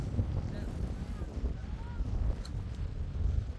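Steady low rumbling wind buffeting the microphone throughout, loud and continuous, with faint voices mixed in underneath.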